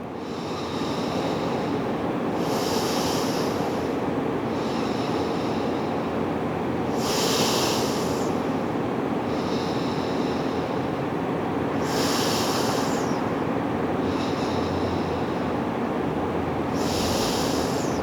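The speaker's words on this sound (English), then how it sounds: "Nice big breath into that long side." During a stretching session, slow, deep breaths come and go in a regular cycle, each one a drawn-out airy hiss, heard close and steady over a constant wash of background noise.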